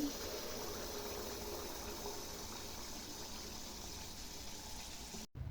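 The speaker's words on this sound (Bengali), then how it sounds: "এবার এক হাতা ব্যাটার তুলে নিয়েছি আর এই তেলের মধ্যে ছেড়ে দিচ্ছি" Malpua batter ladled into hot oil in a wok, a continuous faint sizzling and bubbling hiss held steady for several seconds before a brief cut.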